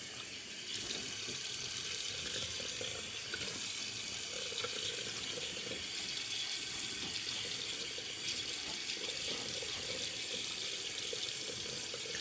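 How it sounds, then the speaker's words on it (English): Tap water runs steadily into a sink to re-wet the face between shaving passes, a continuous near hiss and splash lasting the whole stretch with no talking. "I'm gonna re-wet the face and start lathering up again."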